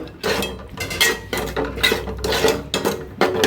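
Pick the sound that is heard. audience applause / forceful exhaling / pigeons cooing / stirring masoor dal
stirring masoor dal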